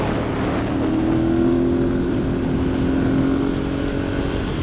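Ducati Monster 1100 EVO motorcycle riding along a rough road, a steady loud engine drone with wind rush throughout, the tone holding nearly constant without distinct revs.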